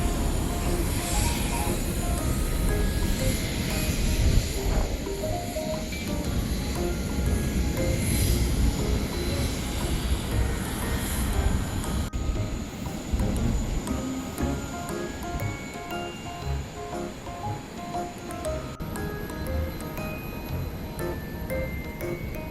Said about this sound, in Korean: 나가면 이렇게 진짜 비행기들을 활주로 볼 수 있어요